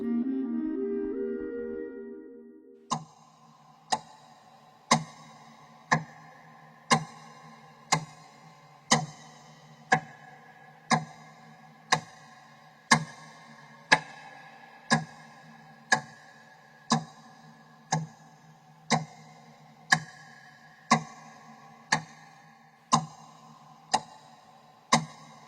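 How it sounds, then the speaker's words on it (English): A clock with a timer set for three hours ticks steadily about once per second, each tick crisp and close, after a brief low tonal sound at the start; no one speaks. "they take a clock, and they set a timer for 3 hours"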